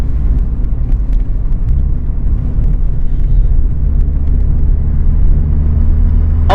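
A modified turbocharged Opel Astra Mk4 sleeper drives along, its engine and road noise forming a loud, steady, continuous rumble with no talking.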